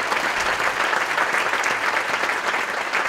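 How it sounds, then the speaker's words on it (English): An audience at a science event applauds the presenting scientists, a steady wash of many hands clapping at an even level the whole time with no voices above it. "So let's give a round of applause for them so far."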